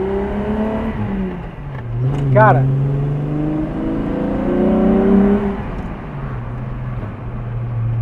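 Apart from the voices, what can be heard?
VW Jetta MK2 VR6 engine revving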